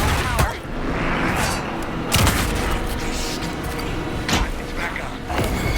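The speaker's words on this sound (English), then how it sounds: "Anderson, pin him down with gunfire for me to get the light on him." Gunfire in the video game Alan Wake 2 cracks out as several loud, separate shots and booms spread over a few seconds, with people talking throughout.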